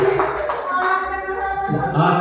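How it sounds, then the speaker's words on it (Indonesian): A burst of clapping from a small group, mixed with people talking and chatter over it. "Tepuk tangan buat Ibu Oom ya"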